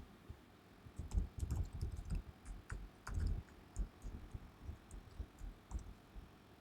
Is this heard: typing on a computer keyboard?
yes